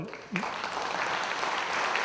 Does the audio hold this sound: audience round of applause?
yes